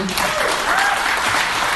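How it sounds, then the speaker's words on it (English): Short burst of audience applause for a state senate candidate at a live libertarian show, dense clapping that runs steadily from start to finish, with some voice mixed in. "Round of applause for Shane"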